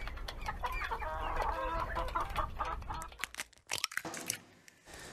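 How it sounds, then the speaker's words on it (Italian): Hens cluck in a mountain-valley farmyard, a close run of repeated, chattering clucks that thins out into a few sharp scratchy sounds and pecks near the end. "Qua ci sono altre due o tre galline che fanno sempre dei buchi"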